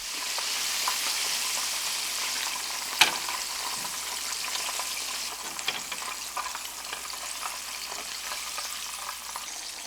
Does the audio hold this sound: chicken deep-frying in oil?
yes